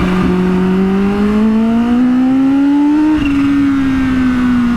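A Kawasaki Ninja H2 superbike on a night ride along Canal Road in Lahore holds a loud, steady high-revving engine drone. The pitch rises slowly, then eases off slightly, with no pauses.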